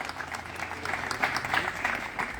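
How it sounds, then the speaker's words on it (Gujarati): An audience at a public event welcomes minister Mukesh Patel and other dignitaries with applause: steady, moderately loud clapping from a crowd, continuous throughout, with a faint voice beneath. "તમામનું સ્વાગત અભિવાદન જોરદાર તાળીઓથી આપણે આ સ્વાગત અભિવાદનને વધાવી લઈશું"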